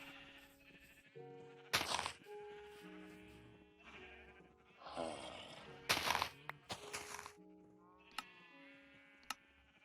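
Minecraft red and gray sheep bleat repeatedly at intervals among game sound effects, with a few sharp clicks and thumps in between.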